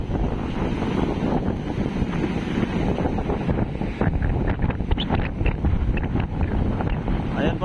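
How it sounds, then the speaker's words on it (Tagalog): Strong Super Typhoon Pepito winds buffet the microphone near the sea at Dinahican, Infanta, Quezon, a loud continuous roar with gusty rumbling and surging waves, no voices heard. "Grabe yung hagupit ni Super Typhoon Pipito."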